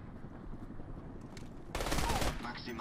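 Gunfire in the video game Crysis, a sudden burst of rapid automatic shots that breaks in over faint background noise, with someone talking quietly before it.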